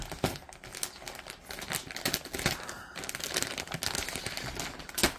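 Plastic packaging around a PeaceNest king size sherpa comforter set being cut open, with busy crinkling and rustling of wrap and quick scissor-like snips running steadily throughout, close and moderately loud.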